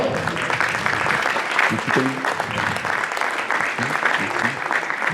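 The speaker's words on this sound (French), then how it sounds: "Vous pouvez les applaudir" Sustained applause from an audience at a women's selection session, an even, continuous wash of clapping lasting several seconds, with faint voices mixed in.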